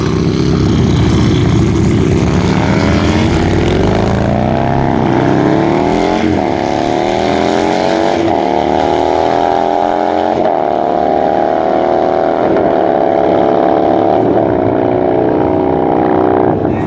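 Motorcycles drag racing at Perth Motorplex, a loud continuous engine roar rising in pitch through the gears as the bikes launch and accelerate down the strip, with an announcer's voice mixed in.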